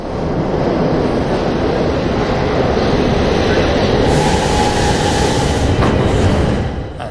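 Subway train rumbling through an underground tunnel in the video game The Darkness, a loud, steady broadband roar that holds evenly for several seconds before easing off at the end.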